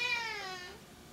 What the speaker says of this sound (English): Oh, cat.